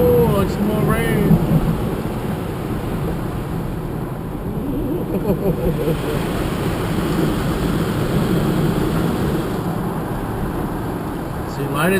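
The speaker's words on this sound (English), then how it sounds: "Oh, it's more rain." Rain falls at a car wash as a steady, broad hiss that lasts the whole time, with low rumbling underneath and no clear separate events.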